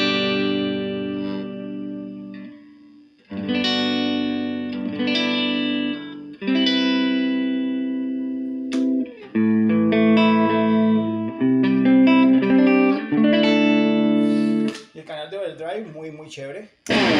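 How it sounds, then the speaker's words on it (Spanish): A Jackson electric guitar played through a Marshall JCM900 Dual Reverb amp on its clean channel with reverb: sustained chords and single notes ringing out in phrases with short gaps between them, loud and close. "voy a tocar con esta Jackson, que es bastante de heavy metal, pero bueno, canal limpio"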